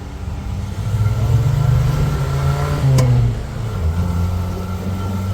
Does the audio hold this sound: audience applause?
no